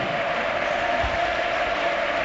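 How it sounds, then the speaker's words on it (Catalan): A stadium crowd at a 2010-2011 FC Barcelona versus Real Madrid La Liga match gives sustained applause and ovation for a substitute, a broad steady roar of clapping and cheering lasting throughout, with faint commentary underneath. "I per Jeffren, i aplaudiments,"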